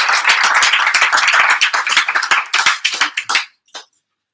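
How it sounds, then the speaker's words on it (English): An audience at a business talk applauds with dense, steady clapping that thins into scattered claps and stops, followed by one brief final clap. "give a warm round of applause to Kerry and Richard Flanagan"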